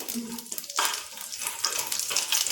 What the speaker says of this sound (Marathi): आपण त्यामध्ये 1 चमचा खसखस घालायचा आहे आणि खसखस थोडंसं भाजून घ्यायचं आहे